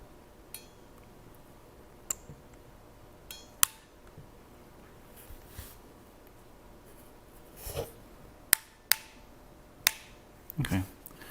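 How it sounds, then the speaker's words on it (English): A die being loaded into an iCrimp KIT-0535 crimping tool: a sparse scatter of soft metallic clicks and clinks, close but quiet, with a small cluster of taps near the end. "we're just going to load this into the crimping tool"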